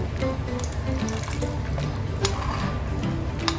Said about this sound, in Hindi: तो अब ये आधा घी हम इसके ऊपर डालेंगे